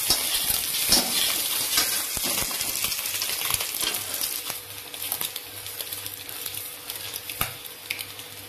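Eggs fry in a pan with ginger garlic paste, giving a steady crackling sizzle broken by scraping stirs and occasional sharp clinks of a utensil against the pan.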